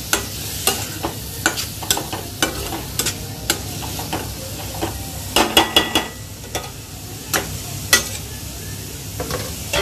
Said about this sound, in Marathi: त्यांना चांगलं मिक्स करून घेऊया.